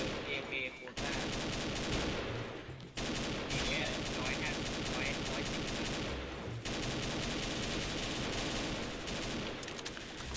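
Rapid AK rifle gunfire in the shooter game XSHOT, sustained loud automatic bursts with brief pauses between volleys, continuous and dense throughout.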